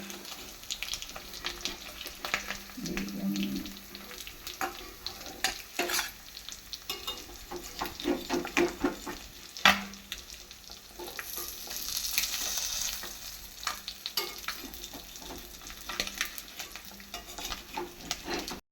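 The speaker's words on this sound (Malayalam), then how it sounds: "മീൻ ഫ്രൈ റെഡി ആയിട്ടുണ്ട്, നമുക്കിത് കോരിയെടുക്കാം." Kerala-style river fish frying in hot oil gives a soft, steady sizzle. Intermittent scrapes and clinks come as the pieces are stirred and scooped out, fairly quiet and close.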